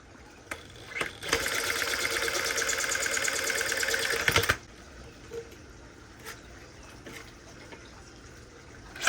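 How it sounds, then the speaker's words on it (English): Sawzall reciprocating saw cutting a plastic crate, a loud, close, steady buzzing run lasting about three seconds that stops abruptly, followed by quiet handling noises. "so we're going to do it with the Sawzall."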